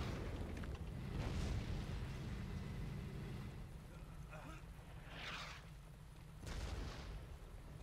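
Bazooka blasts and explosions from the Brothers in Arms Hell's Highway WWII shooter rumble under steady battle noise, with a couple of heavier booms spaced several seconds apart and faint voices in the mix.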